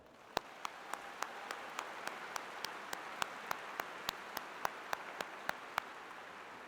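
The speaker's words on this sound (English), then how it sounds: "Let's give them a round of applause." A graduation ceremony audience at the University of Northern Iowa applauds, with sharp, distinct claps landing in a steady rhythm over a soft bed of scattered clapping in a large hall.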